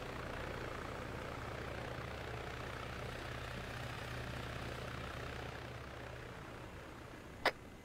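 A light aircraft engine during a takeoff roll on the runway, a steady droning hum at even loudness throughout, ending with a sharp brief click.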